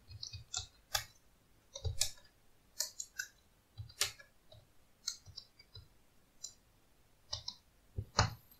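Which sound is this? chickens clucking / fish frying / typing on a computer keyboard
typing on a computer keyboard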